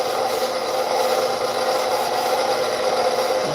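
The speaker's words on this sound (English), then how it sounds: "Just sprinkle on some flour, rub it in." Hands rub flour into thin rolled fettuccine pasta dough, a steady, close, dry rasping and brushing sound that keeps going without a break.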